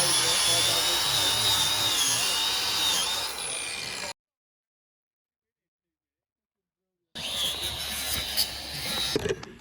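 A power drill drives screws to fix battens onto a handmade log cabin roof, a loud, steady whine with a raised voice over it, then a sudden cut to silence before the drilling and shouting resume.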